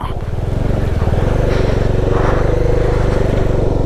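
A Bajaj Dominar 400 motorcycle riding up a Himalayan mountain road in Ladakh, its engine a loud, steady, throbbing drone close to the rider with wind rush layered over it.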